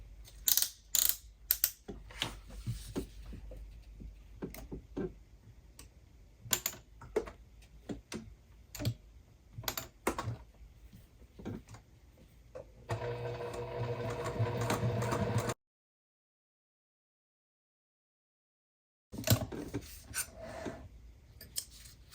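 A sewing machine stitches a crossbody bag seam with back stitching, heard as scattered close clicks and clatter, then a steady whirring run of stitching, a silent gap and a few more clicks.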